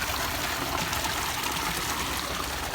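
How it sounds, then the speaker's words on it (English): Running water of a woodland stream among mossy ground, a steady close babbling rush with no pauses and no one talking. "I wonder if you can hear me over the sound of that running water"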